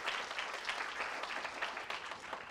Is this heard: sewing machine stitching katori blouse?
no